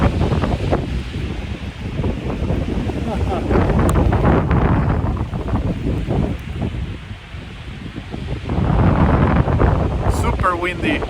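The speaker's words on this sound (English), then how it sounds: "Super windy." Strong gusty wind sweeps through a park ahead of rain, roaring and buffeting the microphone continuously, swelling louder toward the end.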